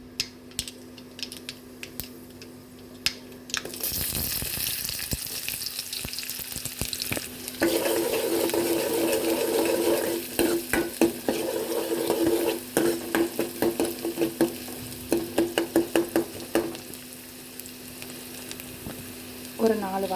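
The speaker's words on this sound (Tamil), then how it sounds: "கடுகு பொரிஞ்சதுக்கப்புறம் வெங்காயம் ஆட் பண்ணிக்கலாம்." Onions dropped into hot oil with popping mustard seeds and urad dal, a quiet crackle that bursts into loud, steady sizzling, then rapid clicking scrapes of a spatula stirring near at hand.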